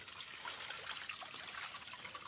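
Water trickles steadily at a mountain water-collecting spot in a forest, a soft continuous splashing hiss with no voices over it.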